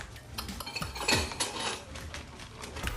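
Dishes being washed, with pots, pans and cutlery clinking and scraping in an irregular stream of small knocks, fairly close and moderately loud, with no talking.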